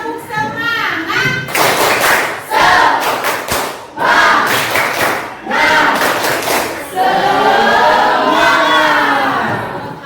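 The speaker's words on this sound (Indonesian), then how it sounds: "Kita tepuk semangat." A school class performs tepuk semangat spirit clapping, rhythmic bursts of group claps alternating with children chanting loudly in unison, all close and energetic.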